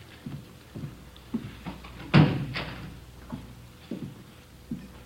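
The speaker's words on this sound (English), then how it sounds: "Did you close the door, Friday?" In a vintage Dragnet radio police drama, a door swings shut with one loud, close thud partway through, set among soft footstep-like knocks in a quiet room.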